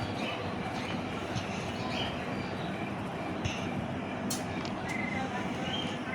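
A train rolls along in the Granny 3 video game with a continuous, even rumble and hiss. It carries faint rattles and a few brief high squeaks, holding at a steady moderate level throughout.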